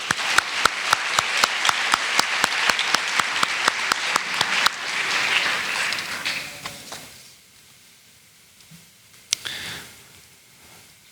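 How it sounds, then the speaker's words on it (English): At a sports hall-of-fame awards night, a crowd applauds winter champions; a rhythmic run of sharp, evenly spaced claps gives way to a broader wash of applause that fades out, followed by a lone louder snap. "let's take one more moment to congratulate and applaud the dedication of the"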